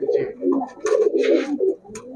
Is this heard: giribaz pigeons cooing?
yes